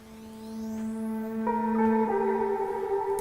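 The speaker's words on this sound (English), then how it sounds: "I think Alan took one of the guitar notes, reversed it, and then we put some bit crushing with like an automation going into it." Reversed guitar note treated with automated bit crushing, swelling in with a rising gritty sweep before settling into a couple of held, buzzy tones, alone and fairly close.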